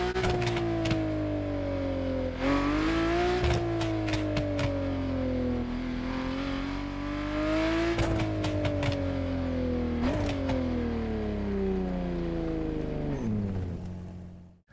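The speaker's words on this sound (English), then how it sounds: "Another thing the game did well is exhaust sounds on these cars." Car exhaust in The Crew Motorfest racing game, a continuous engine drone rising through gears with repeated upshifts and pitch drops, loud and close, with no talk.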